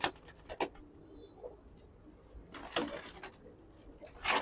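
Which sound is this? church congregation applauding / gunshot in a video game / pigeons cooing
pigeons cooing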